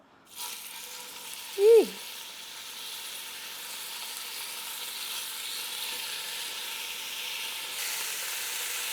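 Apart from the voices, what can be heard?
seasoned beef sizzling as laid in a hot pan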